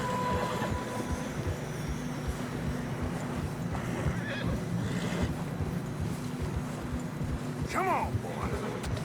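Horses struggling through deep fresh snow in the video game Red Dead Redemption 2 snort and let out a brief neigh amid steady hoof and movement noise, with voices talking over it.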